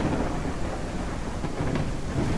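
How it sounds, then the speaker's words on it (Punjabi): Heavy rain and thunder in the farming game Ranch Simulator, a dense continuous roar of rainfall with low rumbling throughout, loud and steady with no voices. "ਇੰਨੇ ਮੀਂਹ ਦੇ ਆਵਾਜ਼ ਆ ਬਾਈ।"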